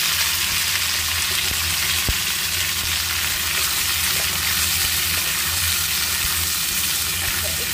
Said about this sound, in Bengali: টুকরো করে কেটে রাখা যে আমটা আমি সেগুলো কিন্তু দিয়ে দেবো কড়াইতে।